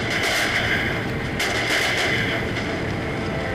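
Massed musket volleys in an Empire Total War online battle: dense, steady crackling gunfire throughout, with a few sharper bursts standing out against a continuous din, loud and close.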